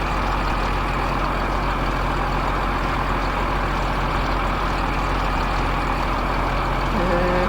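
A truck engine drones steadily in a USA Truck Simulator driving game, a constant loud rumble with no breaks and no talk.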